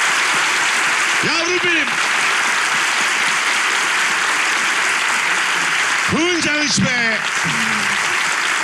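Studio audience applause opens a Turkish relationship-test game show, a steady dense wash of clapping filling the whole stretch while a voice speaks over it twice.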